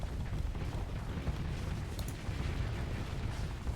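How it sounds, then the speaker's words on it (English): Missile explosions in the space combat game Starsector make a dense, continuous roar of blasts with heavy low rumble. One brief sharper crack stands out partway through. "Fire the missiles again."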